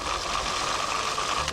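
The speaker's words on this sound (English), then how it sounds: "I've got some pine nuts and I've got some oats. I'm going to pulse these for a little bit." Food processor pulsing pine nuts and oats for a biscuit crumb, a steady close whirring motor drone that cuts off abruptly at the end.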